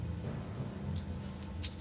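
Metallic jingle of keys being picked up in the Skyrim video game, a soft, continuous rattle over low background rumble, with no talking.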